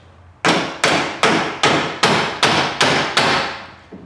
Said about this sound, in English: we'll grab the cover and grab a rubber mallet hammer